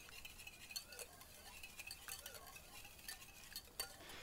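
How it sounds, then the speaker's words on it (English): Egg mixed with salt, pepper, garlic and onion powder being stirred for a spinach and jalapeno omelet beside a Blackstone griddle, soft close clinks and scraping of a utensil against a bowl over a faint background, with no talk. "I'm going to also add into the omelet some of this SPG, the egg mix. So we're going to stir that up."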